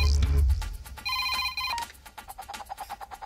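In a Telugu movie scene, a telephone rings with a repeated trilling electronic bell, sounding in bursts after a low rumble and continuing as a pulsing ring toward the end.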